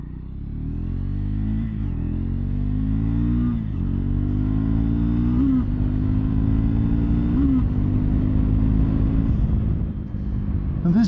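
A 2024 Triumph Scrambler 400X motorcycle pulls along a road with a loud, close engine drone, climbing in pitch through repeated gear shifts, each one dropping the revs briefly before it rises again.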